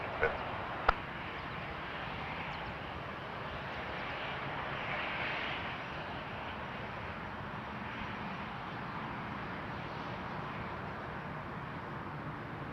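An Airbus A321 taking off from runway 06 left at Toronto Pearson Airport, a steady distant engine roar holding for several seconds beneath a faint radio voice.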